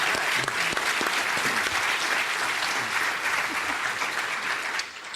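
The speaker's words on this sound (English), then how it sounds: "If we could please have a round of applause for all of the county commissioner candidates." Audience at a candidates forum breakfast gives a sustained round of applause for county commissioner candidates, full and even for about five seconds before fading slightly at the end.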